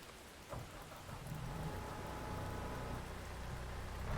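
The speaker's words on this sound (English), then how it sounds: "The rain just hasn't stopped today at all, just constant." Constant rain in an Xbox forestry game, a steady faint hiss of rainfall with a low rumble of thunder swelling underneath, no talking.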